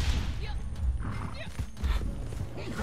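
Horse in Red Dead Redemption 2 during a trade route run near Saint Denis, whinnying and snorting over rumbling hoofbeats and game noise, with a player's voice talking throughout.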